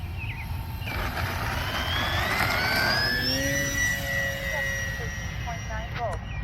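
An E-flite P51 Mustang 1.2 m RC plane flies overhead. Its motor whine rises and slides in pitch as it passes, over a steady rushing background noise outdoors.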